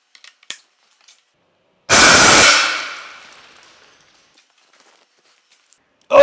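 An airsoft grenade called Sniper Mike, propelled by Neutral 4.0 gas, goes off in one sharp, loud, close burst that trails into a fading hiss over about a second, with a few faint clicks and taps before it in otherwise quiet surroundings.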